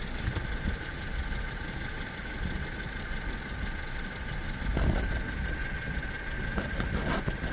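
A Mercedes C250 combustion engine idles steadily during an ECU diagnostic test, a continuous mid-level rumble with a few brief clicks and knocks rising over it near the middle and end.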